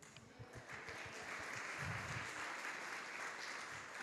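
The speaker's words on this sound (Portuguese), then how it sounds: "Palmas ao Senhor" A church congregation applauds in praise to the Lord during a Portuguese sermon, a fairly faint, continuous wash of clapping from many people with a low murmur of voices beneath it.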